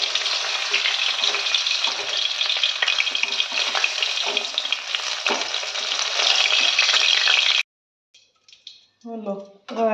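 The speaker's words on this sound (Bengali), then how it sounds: "সব মাছগুলো ভাজা হয়ে গেল।" Fish frying in hot oil in a wok, a loud and steady hissing sizzle with crackling spatters for several seconds. It cuts off abruptly, and then a voice speaks.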